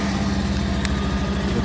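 Motorcycle with its check engine light stuck on, engine running at a steady idle just after starting, a constant low putter with an even rhythm, close and moderately loud.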